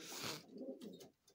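Domestic pigeons coo in a breeding loft, a close, soft burst of low throaty cooing with a few brief wing or shuffling sounds, no talking.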